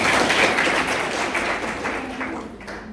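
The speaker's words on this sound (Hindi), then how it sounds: "ताली बजाओ, बहुत सही है।" Students in a college classroom clap together in a sustained burst of applause that stays fairly loud and dense, then eases slightly toward the end.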